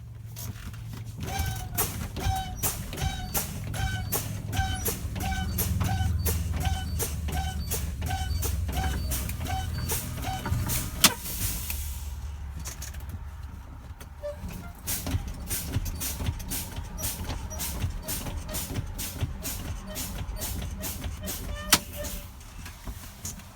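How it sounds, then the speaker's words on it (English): Truck air brakes pumped repeatedly during an emergency pop-out test, a long run of regular rapid hissing and clicking bursts over a low engine rumble, with a brief pause midway before the rhythmic pumping resumes; a voice speaks intermittently. "I'm going to continue to pump on my brakes between 20 and 45 PSIs"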